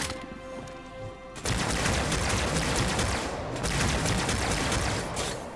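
Enemy turret gunfire in Halo 2 Anniversary: after a quieter opening, loud sustained automatic fire bursts in and rattles on continuously, dense and close, with no talking.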